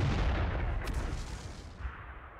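An artillery gun in World of Tanks fires an armor-piercing shell: a single heavy boom at the start, then a rumbling decay with a faint crackle partway through. No voices are heard.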